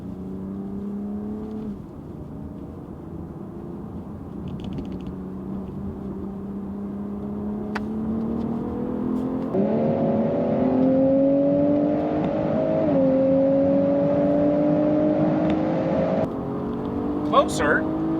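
A 2024 BMW M440i Gran Coupe, Kia Stinger GT, Audi S4 and Mercedes-Benz C43 AMG accelerate hard in a drag race, engine pitch climbing steadily with a few gear-shift breaks, loud and close, with voices talking over it.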